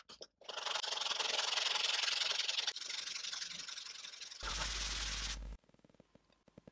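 Steady, loud hand sanding of a wood pendant: a continuous gritty rasp for several seconds, briefly harsher near the end, then stopping to quiet.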